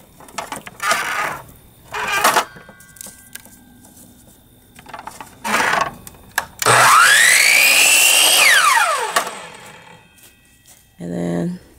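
A power saw cuts a piece of scrap wood in one loud burst of about two seconds, its whine rising and then dropping as the blade runs down, between short bursts of nearby handling noise and voice.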